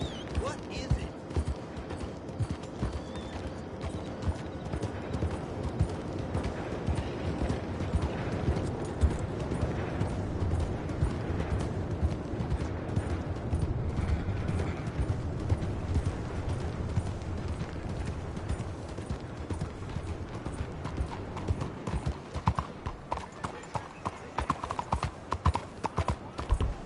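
Horse hooves clip-clopping in a video game, a continuous rhythmic clatter of steps that stays loud and close for the whole stretch, with occasional whinnies and creaks and voices talking over parts of it.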